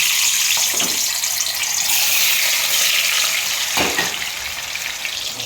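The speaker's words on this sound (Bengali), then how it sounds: "এবার আমি পনিরগুলো ছেড়ে দেবো, হালকা করে ভেজে নেব" Paneer cubes sizzle in hot mustard oil, a steady loud broadband frying hiss filling the whole stretch, with a couple of brief spatter bursts and no talking.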